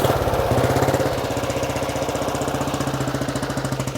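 A 1935 BSA Blue Star motorcycle engine fires up on full advance with the choke off and settles into a steady, rapid, loud thumping idle close by.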